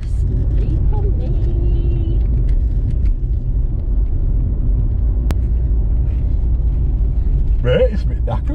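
Car engine and road rumble while driving, a steady, loud low drone heard from inside the vehicle, continuous throughout with a faint squeak near the end.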